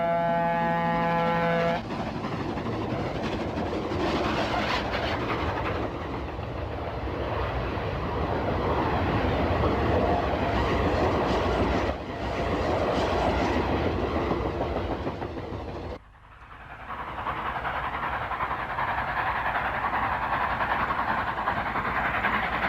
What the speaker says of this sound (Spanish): tiene 3 silbatos, 2 de vapor y 1 de aire